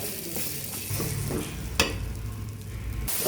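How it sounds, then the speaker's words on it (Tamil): Beaten eggs stirred and frying in a pan for homemade kothu parotta: a steady close sizzle with scraping stirring strokes and one sharp utensil knock partway through, no voices. "அஞ்சு முட்டையை கலக்கி வச்சுருக்கேன் அப்படியே கிண்டிக்கிட்டே இருங்க"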